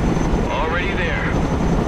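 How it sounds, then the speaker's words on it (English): A helicopter in the video game Broken Arrow, a loud, dense rotor and engine roar filling the short moment with a faint whine above, under a voice speaking. "Helicopters are impressive machines. Boy, are they noisy."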